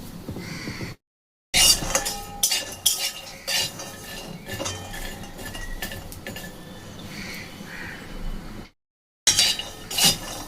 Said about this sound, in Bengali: প্রথমে শুকনো বাদামগুলোকে আমি ভেজে নেব।